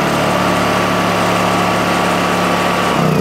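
A Honda generator engine used to power an aircraft preheater runs steadily at idle, a loud, close, continuous hum with strong low harmonics and vibration, shifting slightly near the end.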